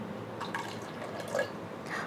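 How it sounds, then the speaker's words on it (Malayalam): Hot water trickling and dripping into a pan of curry, with small splashes and a soft liquid pour, fairly quiet with no one talking. "ഈ അരപ്പിൻ്റെ ശകലം ചൂടുവെള്ളം ഒഴിക്കാം."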